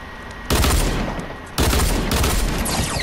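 Video game gunfire rings out in two loud, close bursts of rapid shots, each cracking in suddenly and ringing on for about a second, with no talk over it.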